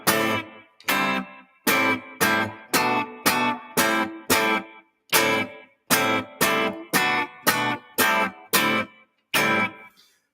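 An electric guitar with distorted tone strums short choppy chords in a steady rhythm, each downstroke followed by a clean rest of silence instead of an upstroke, repeating about fifteen times.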